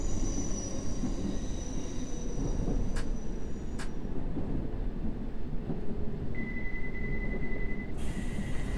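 London Underground train from a train simulator game rumbles steadily in the cab, a loud low running drone with a couple of brief sharp clicks and a faint high whine near the end, no talking.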